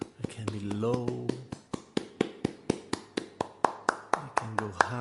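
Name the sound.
hand clapping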